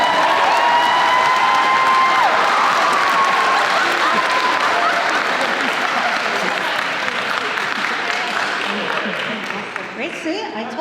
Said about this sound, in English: I think we're going to get a real loud round of applause here